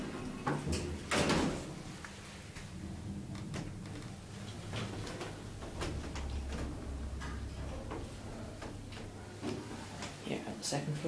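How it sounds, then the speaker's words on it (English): An elevator door slides shut inside the Yellow Wing at Crawley Hospital, a short mechanical rumble and clunk heard close up, with a faint background hum and occasional light clicks. "Door closed when I push the button."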